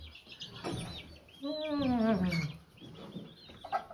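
Chickens on a farm roost giving soft clucks and one drawn-out, descending call as they settle for the night, close by, with a little background noise.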